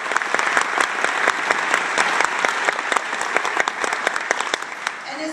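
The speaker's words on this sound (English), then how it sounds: "Let's give them a big round of applause" Crowd applause at a symphonic band concert, dense clapping with sharp individual claps standing out, steady and fairly loud throughout with some crowd noise mixed in.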